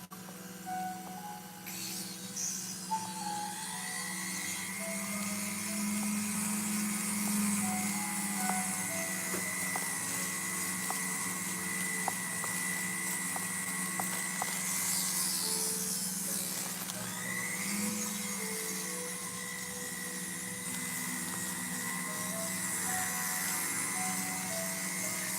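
A rotary drill grinds steadily into a crystal during relief flower carving, a continuous high whine with a low hum underneath, fairly loud and unbroken, shifting slightly in pitch as the bit works in small circles.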